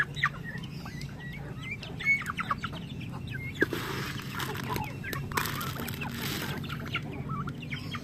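Young turkey poults peep and chirp in quick scattered bursts, with occasional deeper clucks and some bursts of rustling noise in the background.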